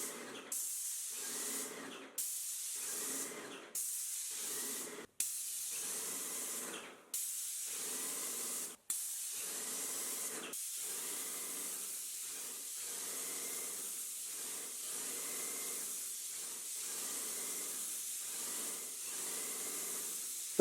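An airless sprayer lays diluted paint onto walls with sharp hissing bursts. Short sprays are broken by brief pauses at first, then become a long, pulsing hiss, loud and close, with no voices.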